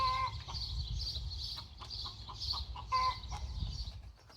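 Hens cluck and call repeatedly in a farmyard in the morning, a fairly close chorus of their egg song sounding in bursts over a steady low rumble, with no talk.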